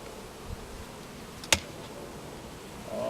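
Honeybees shaken from a hive box during a honey harvest buzz as a faint, steady hum, with one brief sharp knock in the middle and no voices.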